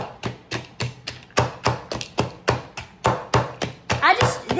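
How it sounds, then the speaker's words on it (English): Pecans chopped on a board with the base of a knife, about fifteen sharp thuds in a quick, even rhythm, close and loud, with some faint scattering of pieces near the end. "This is chopping up pretty good, actually."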